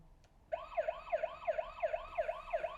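A toy car siren kicks in and wails in a steady repeating up-and-down pattern, bright and electronic, close by with no talking.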